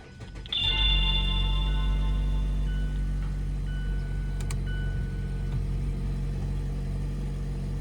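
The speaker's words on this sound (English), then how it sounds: "so I'm gonna start the car up." A Mazda car engine cranks and catches, then settles into a steady idle, close and fairly loud, with a few faint clicks and chimes over the hum.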